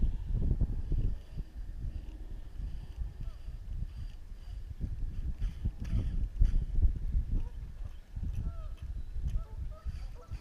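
Strong wind buffets a lakeside spot on Manlove Lake, a steady low rumble with gusty surges running throughout the clip.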